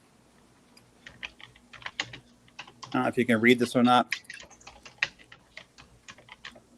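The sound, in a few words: typing on a computer keyboard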